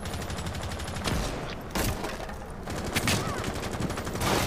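Rapid bursts of gunfire in the tactical shooter Rainbow Six Siege, loud and close, with several sharp cracks and volleys spread across the moment while no one speaks.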